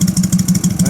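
A 1978 Harley-Davidson FXS Lowrider engine idles hot and steady nearby, its low loping pulses repeating in an even, lumpy rhythm throughout.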